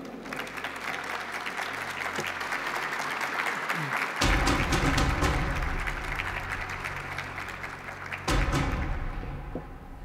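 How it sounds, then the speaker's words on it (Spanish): Applause from a gala awards ceremony crowd in Medellín: loud, continuous clapping with a low rumble underneath and two sudden surges, the second fading toward the end. "Una merecida felicitación de nuevo a la ciudad de Medellín y fuerte aplauso"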